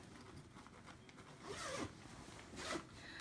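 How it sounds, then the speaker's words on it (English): A zipper on a baby crib safety net tent is drawn open in two quick rasping pulls, close and clear, with a soft rustling background between them. "You find the zipper to open it up."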